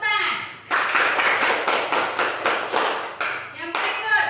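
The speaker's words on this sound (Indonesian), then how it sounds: "Iya, tepuk tangan." A classroom of students claps in a rhythmic group pattern during a teacher's lesson, the beats bunched into short bursts, loud and close, with a voice speaking briefly at the start and end.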